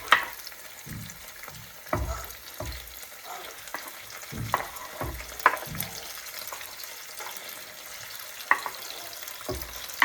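Squid fries in a pan with browned red onion, a steady soft sizzle broken by periodic scraping stirs and clinks of the utensil, close up with no voices.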